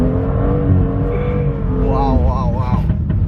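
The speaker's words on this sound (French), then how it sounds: "j'utilise l'accélérateur et l'angle du volant pour tenir la voiture en drift" A supercar engine revs hard while drifting through snow in second gear, its tone rising and falling with throttle blips as the car slides, loud and close with speech over it.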